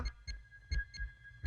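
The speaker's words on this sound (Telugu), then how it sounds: "నిమిషానికి రెండు వందల సార్లు కొట్టుకుంటుంది గుండె" A fast, pounding heartbeat used as a movie sound effect: five or six heavy low thumps in a quick regular rhythm over a faint steady hum, close and alone with no voices.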